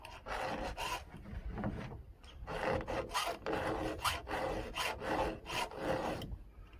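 A hand file sharpens the chain of a Husqvarna 562xp chainsaw in a quick, steady series of close rasping strokes, about a dozen in a row, with no talking.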